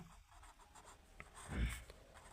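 Pen writing out a math solution for a class 10 NCERT statistics exercise, a soft scratchy scrawl running steadily and close with one louder stroke midway, no voices.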